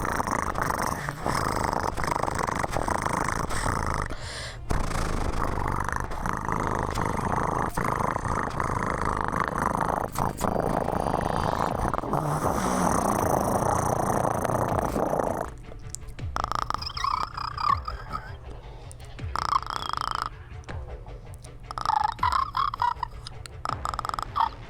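A human voice imitates two kinds of cat purring, producing long rumbling, fluttering purrs that later break into shorter, choppier bursts separated by pauses.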